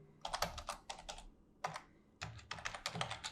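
Quiet clicking on a computer keyboard, three short bursts of rapid keystrokes separated by brief pauses, close and alone.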